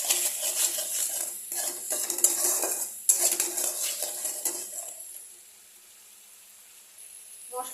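A spoon scrapes and clinks against a metal cooking pot while a spice paste mixed with water is stirred, in busy irregular strokes for about five seconds before falling quiet, with a faint sizzle underneath.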